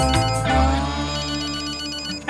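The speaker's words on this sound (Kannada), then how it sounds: "ಯಾರ್ದ ಫೋನ್ ಹೊಡ್ಕೊಳ್ತೈತೆ ನೋಡ್ರಲ್ಲ" A mobile phone ringtone plays loud and close, a steady electronic melody that rings on alone for a couple of seconds before cutting off.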